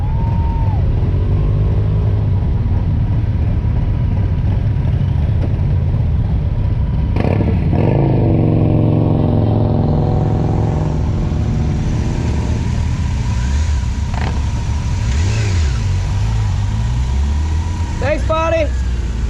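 Several motorcycles pulling out of a parking lot at the start of an Iron Butt long-distance ride, engines idling and revving close by in a steady rumble with rising throttle sweeps, under people talking.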